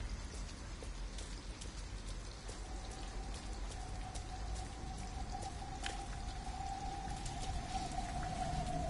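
Steady rain patters and hisses throughout a scene in Detroit: Become Human, with a faint sustained tone rising in the background partway through and scattered heavier drips.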